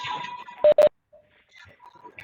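Two short telephone keypad dialing tones beep in quick succession on a conference call line, with faint murmuring and line noise around them.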